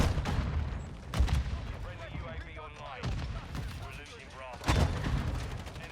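Gunfire in Call of Duty Modern Warfare 2, a few sharp loud shots and short bursts spaced across the moment, with game background noise between them.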